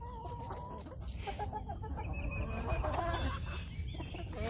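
Backyard chickens clucking and murmuring close by on a farm in the morning, with scattered soft clucks and calls over a low ambient rumble, no talking.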